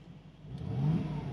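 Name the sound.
Mercedes-AMG G63 V8 engine exhaust burble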